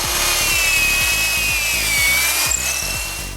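A cordless Milwaukee saw fitted with rotatable carbide blades cuts through wood in a steady, loud, continuous pass. A rapid rhythmic rasping of the teeth runs under a high motor whine.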